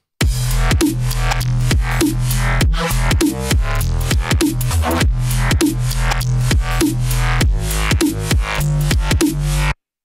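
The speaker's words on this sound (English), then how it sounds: "I'll play you the original bass line that I made just using a massive patch" A loud, buzzy synthesizer bass line made with a Massive patch pulses in a steady rhythm, with sliding pitch drops and a thick, moving tone throughout.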